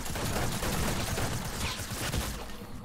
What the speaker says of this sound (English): I hit you with a snipe and then I hit you with a headshot with a six shooter